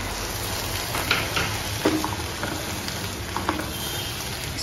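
Milk and cream mixture cooking in a pan on high flame for a spinach, corn and cheese sandwich filling, giving a steady soft sizzle with a few light scrapes of stirring.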